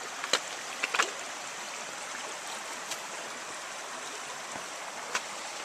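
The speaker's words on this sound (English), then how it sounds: "here's a little creek crossing" A small creek at a trail crossing flows in a steady, close babble of running water, with a few brief knocks or splashes near the start and no talk.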